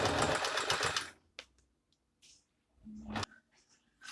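A Singer M3305 sewing machine runs a straight stitch along a skirt hem, a steady close whirring burst for about a second, then stopping, with a few short handling clicks and a brief second spurt of motor afterward.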